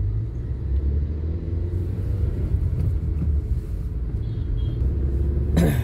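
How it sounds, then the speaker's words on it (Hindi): Morning road traffic with cars and other vehicles rolling past, a steady low rumble throughout with a brief brighter swell near the end, no talking. "सुबह सुबह भी ट्रैफिक है"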